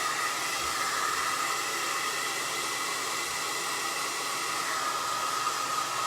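A hair dryer blows on wet paint on a craft piece, a loud, continuous whooshing hiss with no break and no voices.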